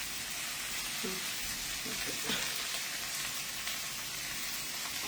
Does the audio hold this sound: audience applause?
no